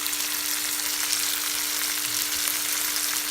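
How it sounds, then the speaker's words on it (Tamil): Tomatoes with a little salt fry in a pan for rasam, giving a constant close hissing sizzle with faint stirring and a low steady hum underneath. "இப்போ நல்லா வதக்கிடுங்க. தக்காளி வதங்கிறதுக்காக கொஞ்சமாக சால்ட் ஆட் பண்ணிக்கலாம்."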